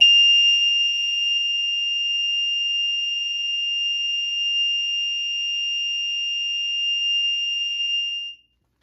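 Amseco fire alarm set to high-volume continuous electromechanical mode, sounding a loud, steady, piercing tone for about eight seconds before cutting off abruptly, with no voices.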